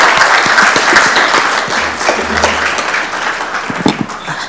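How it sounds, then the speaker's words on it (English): A roomful of people applauding at a Wayne County Commission meeting, dense sustained clapping that gradually thins, with a low hum underneath. "Let's give Commissioner McCormick a round of applause for this"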